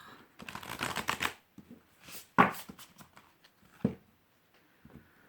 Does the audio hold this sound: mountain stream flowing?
no